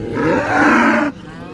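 A cow at a livestock market in Sangola gives one long, loud, low moo close by, lasting about a second before it falls quiet.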